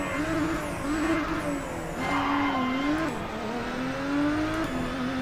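A Nissan Skyline GT-R engine braking in fourth gear in a video game, a steady loud engine drone whose pitch wavers and shifts across several seconds, with no talk over it.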